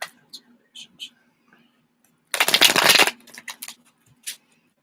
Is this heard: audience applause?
no